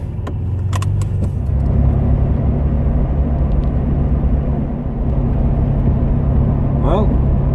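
A 1980s Ford Capri with a freshly replaced clutch cable drives along, its engine and road rumble holding steady and loud from start to finish, with a few light rattles on top.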